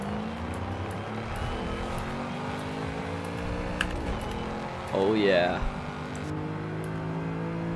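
Engine of a Lamborghini Urus with a custom Halloween wrap in Forza Horizon 5, a steady loud drone with gear-shift pitch changes and a brief rising rev near the end, under a voice talking.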